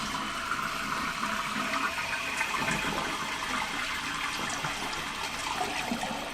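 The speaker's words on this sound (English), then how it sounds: "let's give this a good flush and just see what my tank looks like now" A toilet tank flushing after being cleaned with citric acid: a loud, continuous close-up rush and gurgle of draining water that holds steady throughout.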